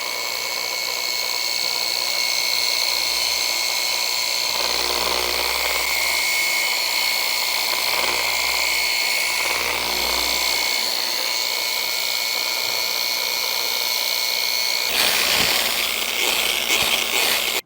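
A rotary sander with 600-grit paper works over an aluminum baseball bat, making a loud, continuous high-pitched whine that grinds on steadily, with a rougher surge near the end.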